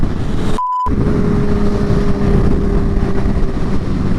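A 2019 Kawasaki Ninja H2 Carbon fitted with a Vandemon exhaust roars as a loud, steady engine drone close by, with one brief dropout early on.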